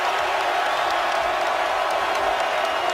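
A basketball arena crowd cheers for the Virginia Tech Hokies during a Duke game, a steady, loud wash of crowd noise and whoops that fills the whole stretch with no clear breaks.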